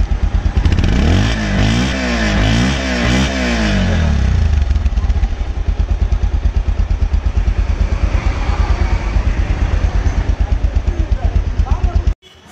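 A blue Bajaj Pulsar 150cc ABS motorcycle in near-new, second-hand condition revs loudly up and down a few times close by, then settles into a steady, rapid idle thump.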